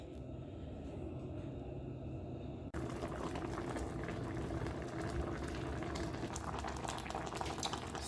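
Blended ginger and pepper with a little water bubbling under a lid in a pot, a steady soft simmering hiss that grows fuller and louder partway through, with no talking.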